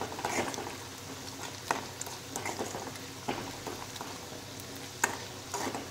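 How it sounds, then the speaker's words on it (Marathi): Red chilli chutney roasting in oil in a pan over a low gas flame for zunka, a soft steady sizzle with occasional stirring scrapes and clinks, close and fairly quiet, no talking. "चटणी ही तेलात बारीक गॅसवर आपण छान भाजून घेऊया।"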